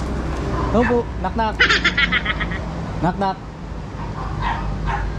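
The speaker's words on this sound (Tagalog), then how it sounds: "Tahol ng tahol yung mga aso." Several dogs bark and yip repeatedly near a house, with a whimper among the barks, while a man calls out over them and traffic hums in the background.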